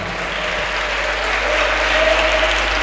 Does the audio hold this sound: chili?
no